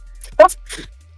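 One short, voiced sneeze bursts out close and sharp, followed by a quick breathy trail and then quiet.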